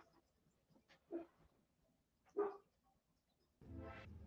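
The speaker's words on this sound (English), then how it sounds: "What are you barking at?" A few sharp, isolated dog barks separated by quiet gaps, followed by a sustained low rumble of noise.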